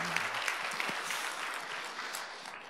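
Church congregation clapping during a Sunday morning worship service, a soft, even patter of many hands continuing for a few seconds, faint and somewhat distant.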